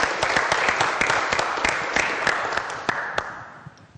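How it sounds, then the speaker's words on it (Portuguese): An audience at an evangelical church community event breaks into applause for a speaker, a dense burst of many hands clapping that gradually thins and fades near the end. "Vamos aplaudir o nosso mestre maior, Donato Ramos!"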